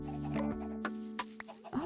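Blocky Minecraft chickens cluck in short, scattered bursts, a handful of clipped calls over a steady droning background tone in the game world.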